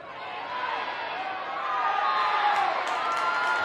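A stadium crowd cheers at a women's football match between Birmingham City and Sunderland. A broad, sustained roar from many voices rises and swells, with scattered higher whoops near the end and a commentator speaking over it.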